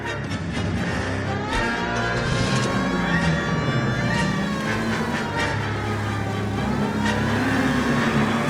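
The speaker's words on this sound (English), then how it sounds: "Get in and drive." A car driving in the L.A. Noire video game gives a running engine rumble, with a wailing siren rising and falling over it throughout.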